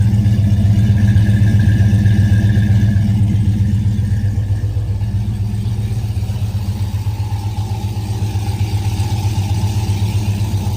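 A 1970 muscle car with an air grabber hood and electronic exhaust cutouts idles steadily, a loud, close, low rumbling drone that holds without revving.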